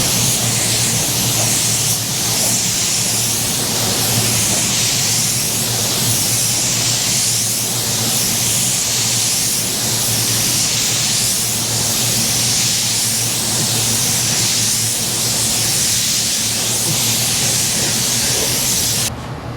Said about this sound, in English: we just got done spraying that second coat of clear